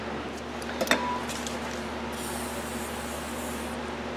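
WD lubricant sprayed onto the front wheel hub of a Toyota Corolla during a wheel bearing job: a short, close hiss of aerosol over a low background drone, with a brief clack near the start.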